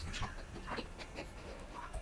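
A dog pants close by in quick, rhythmic breaths with small whimpery catches, steady over two seconds inside a home kitchen.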